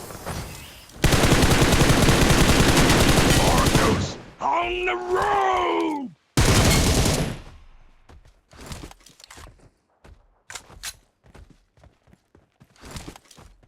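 Gunfire in the mobile battle-royale game PUBG Mobile: a long loud automatic burst, a second shorter burst, then scattered single shots and distant cracks, with brief vocal sounds between.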